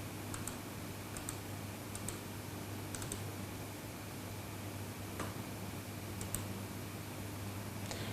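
Keys tap on a computer keyboard in small clusters of soft clicks with short pauses between them, close but quiet over a steady low hum.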